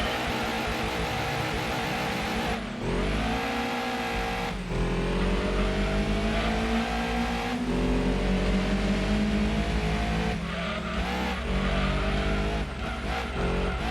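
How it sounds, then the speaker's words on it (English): A fully modified old Corvette in the Gran Turismo 2 racing game, its engine loud and continuous, revving up through the gears with sharp shifts and a brief tire squeal. "look at that rev"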